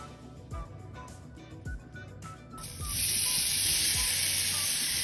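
Sweet potato and ham hash sizzles in a pan with a steady, bright frying hiss. Soft clunks come first, then the hiss jumps louder and stays strong up close.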